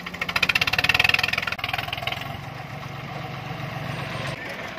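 A tractor engine idles close by, with a loud, rapid chugging pulse for the first second and a half that settles into a steadier rumble, with faint voices in the background.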